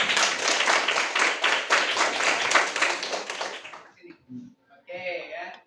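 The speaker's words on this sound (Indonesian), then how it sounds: "ya kita kasih aplaus juga" A classroom claps for group 5 with a few seconds of steady, dense applause that fades out, then someone starts speaking.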